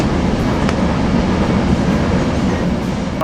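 Steady low rumble of a Caltrain passenger car in motion from inside, a continuous dense roar with faint rhythmic rail clicks and a brief squeal near the end, with no talking.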